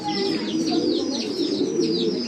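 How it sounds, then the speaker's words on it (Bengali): Male pigeon cooing among a flock of kept pigeons, repeated soft low coos mixed with other bird chirps, steady and fairly close, no talking. "যখন নটটা ডাক দিতেছে তখন মাদিগুলা কি করতেছে দেখেন"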